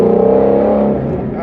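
A car engine revs loudly and steadily up close, its deep throaty growl sustained throughout before easing slightly toward the end.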